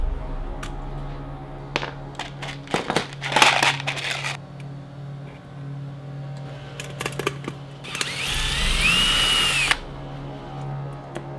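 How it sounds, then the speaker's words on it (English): A power drill bores through a steel Viking helmet to clean out rivet holes: short whirring bursts with clicks and metallic knocks between them, then one longer, louder drilling run near the end, all close up. "So just give it a little pass with the drill"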